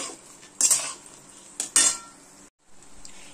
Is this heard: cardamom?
yes